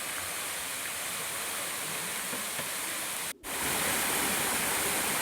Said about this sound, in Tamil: இப்போ நம்ம பார்க்குறது தாங்க அந்த இரண்டாவது அருவி